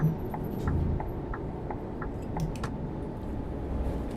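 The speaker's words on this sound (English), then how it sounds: "I like the indicators as well, nice muted sound" A truck's turn indicator in Euro Truck Simulator clicks in a soft, muted, steady rhythm, repeating about every third of a second over a constant low engine and road rumble.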